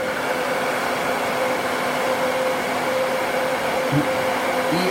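A steady, even whooshing roar of an Elchin hair dryer blowing continuously, close and loud, with a faint hum riding on top.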